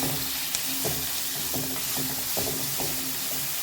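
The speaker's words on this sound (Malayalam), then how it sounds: "സവാളയും ഒരു 4 പച്ചമുളകും സ്ലൈസ് ചെയ്തിട്ടിട്ടുണ്ട്. ഇത് ജസ്റ്റ് നല്ലോണം ഒന്ന് നമുക്ക് ഫ്രൈ ചെയ്തെടുക്കാം." Sliced onions and four green chillies frying for egg biryani hiss steadily in the pan, with a regular series of soft spoon scrapes and taps stirring them throughout.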